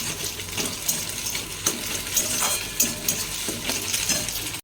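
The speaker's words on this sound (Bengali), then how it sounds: "যে দুখানা ডিম ফাটিয়ে নিয়েছি এটাকে ঘেটে দেবো" Two cracked eggs being stirred and beaten for scrambled eggs, a steady scraping, swishing rhythm with light tapping accents, close and clear with no talk.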